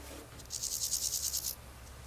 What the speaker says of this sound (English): You guys hear those cicadas?